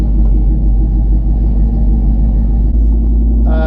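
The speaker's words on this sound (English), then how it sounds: "Let's take it out for a drive." A restomodded Toyota Land Cruiser FJ40 with a V8 engine rumbles loudly and steadily while driving, its deep low engine drone filling the cabin close up, with no talk.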